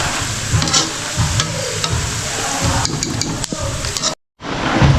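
Oil sizzles and spatters steadily in a frying pan, close and loud, with scattered sharp pops and light clinks of a utensil, briefly cut out near the end.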